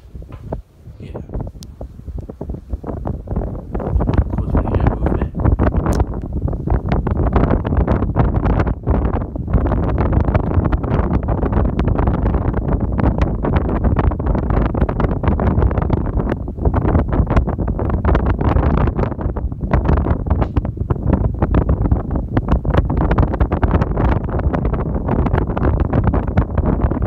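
A Casablanca Wailea 31-inch ceiling fan with six white blades spins steadily, giving a constant, fairly loud whooshing rush of moving air that holds through the whole stretch, with occasional low rumbles and a voice now and then.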